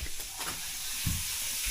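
Tilapia fries in a pan in a home kitchen, giving off a dense, steady sizzle and hiss with a few soft clinks and low bumps mixed in, close and moderately loud.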